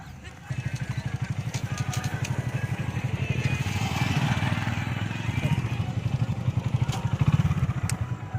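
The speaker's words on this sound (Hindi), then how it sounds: "अब हम ये बाइक पर सवार हो गए हैं और एक एक्सीलेटर देते ही हम स्टेट हाईवे पर पहुंच जाएंगे" A motorbike carries riders from a village toward a state highway, its engine chugging in a steady close putter that swells slightly mid-ride, with rattling and wind noise over it.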